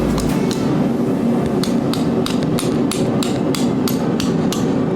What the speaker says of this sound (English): tip pointed up, and then we're still doing kind of glancing blows